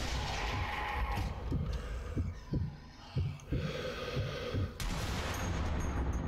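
Several dull, muffled gunshot thumps from the video game Zombie Army Trilogy land irregularly over a dense, steady background rumble.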